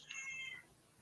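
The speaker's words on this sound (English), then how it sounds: "I apologize for the cats shouting." A cat meows once, a short bright call that fades quickly, heard faintly in a quiet room with no talking.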